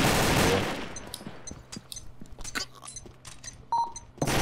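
A sharp blast opens, followed by scattered gunshots in the video game Combat Arms during a match, short cracks and pops with electronic beeps and no talking.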